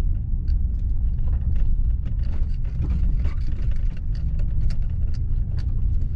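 A vehicle turns around on a dirt road at a reservoir campground in a national forest, giving a steady low engine rumble with crunching tyre and gravel ticks throughout, close and continuous.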